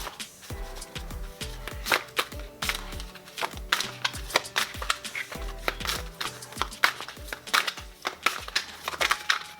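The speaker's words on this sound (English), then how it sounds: "so many cards in this deck is kind of like crazy to shuffle it" An oversized tarot deck is shuffled by hand, giving a rapid, uneven run of close papery riffles, slaps and thumps, with brief pauses between bursts.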